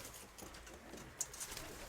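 A pigeon coos softly in a quiet loft, a faint low murmur with a brief brighter chirp near the middle.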